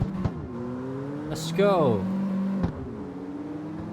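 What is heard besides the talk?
car wheel spin in CarX Street video game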